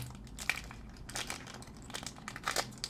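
Plastic crinkles and rustles as a vacuum-sealed bag holding an Epson ink bottle for an L3151 printer is cut and opened, a close, quiet crumpling with a few sharper crackles.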